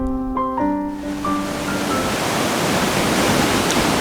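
A swollen mountain river in the Himalayas near Sonamarg, fed by snowmelt and morning rain, rushes with a loud, steady roar like a waterfall. A few brief tonal notes sound at the start, then the continuous broadband rush fills the rest.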